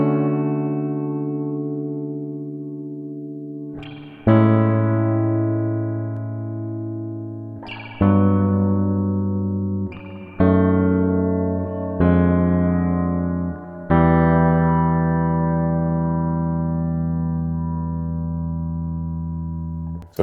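Electric guitar chords drenched in spring reverb, with the reverb ducked under the dry signal so it pumps back in as each chord fades; about six loud strummed chords ring out and decay, alone with no voices.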